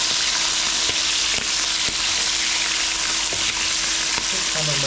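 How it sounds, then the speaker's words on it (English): Salt and pepper squid and chips go back into hot oil for a second fry, a dense continuous sizzle and bubbling, close and loud, with a few faint knocks. "let's whack them all back in together. Fry them back again."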